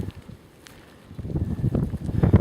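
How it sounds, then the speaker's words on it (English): Outdoor wind buffeting a camera microphone during metal detecting in a field, low rumbling gusts that start softer and grow louder and more turbulent, with faint rustling on top. "it's windy, so I'm trying to shield the camera again"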